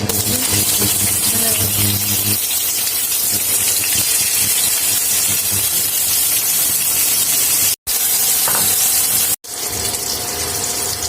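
A continuous loud hiss and sizzle fills the clip as chicken salami fries in hot oil in a frying pan, with two brief dropouts near the end.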